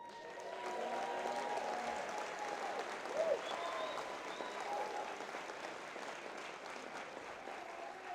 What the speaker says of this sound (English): You can tell by the applause how warranted what I'm about to say is.